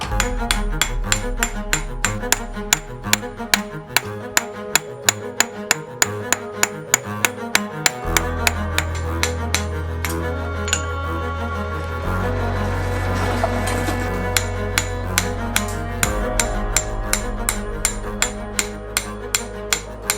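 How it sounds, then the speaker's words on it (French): A power hammer forges Japanese knife steel at a traditional forge, pounding in a fast, steady rhythm of loud metallic blows that runs continuously over a low mechanical rumble, with no voices. "on a un marteau pilon, on peut faire ça au moins tout seul"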